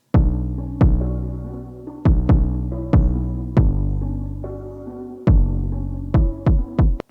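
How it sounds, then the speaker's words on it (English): An unprocessed 808 bass and kick drum pattern, punchy kicks followed by long booming low bass tails in a syncopated rhythm, loud and dry with no other instruments. "This is just how the 808 and the kick sounds by itself."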